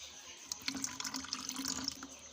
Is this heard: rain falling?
no